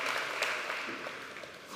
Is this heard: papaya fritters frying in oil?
no